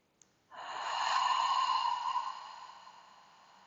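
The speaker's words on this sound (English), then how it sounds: "Big deep breaths." A single long, deep breath drawn in and slowly let out during a calming anxiety-relief exercise, close and soft, rising to a steady airy rush and then fading away.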